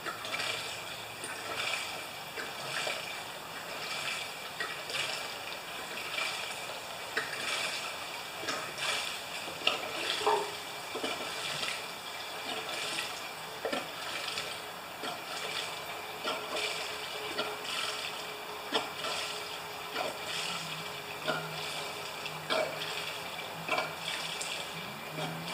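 Fuel pours through a funnel into a new 3550 watt generator, a quiet, uneven trickling and gurgling of liquid with faint clicks, steady for about twenty-five seconds without talk.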